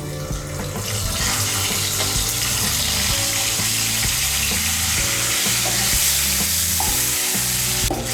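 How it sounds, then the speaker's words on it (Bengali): Boiled eggs, lightly slit, fry in oil with a loud, dense sizzle that holds steady throughout, over a low background hum. "এর মধ্যে আমি ডিমগুলো ভেজে নেব।"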